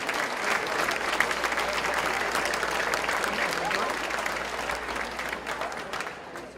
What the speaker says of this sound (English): let's give a round of applause to all of our sponsors tonight